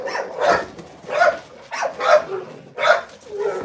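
A dog barks close by in loud, repeated bursts, about five barks spaced roughly evenly with brief pauses between them.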